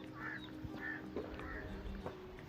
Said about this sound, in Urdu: پرندوں کی آوازیں